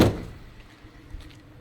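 A car's rear right door shuts with a single close thunk at the start, followed by faint interior rustles and small clicks.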